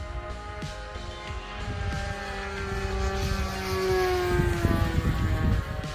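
The steady whine of a light Hawker Sea Fury model airplane's propeller flying overhead on its first flight, its pitch shifting gently as it passes, with faint wind noise and no talking.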